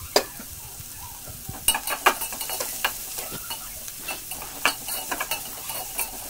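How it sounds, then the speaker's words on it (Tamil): Onion and garlic sautéing in a pan for South Indian fish curry, with quiet sizzling under intermittent scraping and clinks of a spoon stirring, no talking. "ஸோ வெங்காயத்தையும் அந்த பூண்டையும் போட்டு நல்லா வதக்கலாம்."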